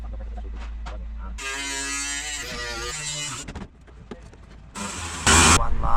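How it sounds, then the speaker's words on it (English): An angle grinder with its guard removed cuts into the metal cab of a Toyota Land Cruiser, a loud harsh whine that starts abruptly, drops away, then returns in a second burst near the end. "I'm gonna try grinder without guard. I should be able to get that corner."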